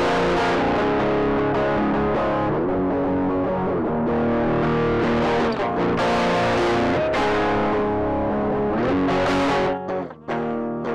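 Electric guitar run through a Tube Screamer-style overdrive plugin with the drive turned high, giving thick, saturated high-gain chords that ring continuously and loudly, with no talking.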